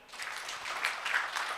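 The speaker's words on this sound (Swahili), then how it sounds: "Makofi." Brief burst of applause from an audience at a gathering, a short patter of clapping swelling and fading within a moment.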